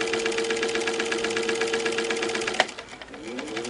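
A vintage Singer Model 15 sewing machine runs with a steady, fast mechanical chatter, then slows with a clunk near the end. The sound is close but fairly quiet, with no talking.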